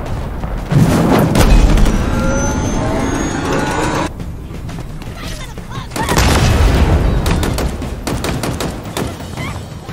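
A vehicle explodes in the Halo Infinite campaign's open world: heavy booms and thuds roll over continuous battle noise, with a second loud blast midway, and a voice talks over it.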